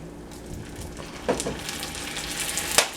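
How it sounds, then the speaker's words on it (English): Butter and sugar melt in a pan over low heat, making a soft, close sizzle with a few brief stirring scrapes and clicks near the end. "now the butter and the sugar is melting"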